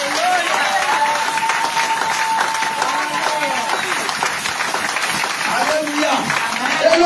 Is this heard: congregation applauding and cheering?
yes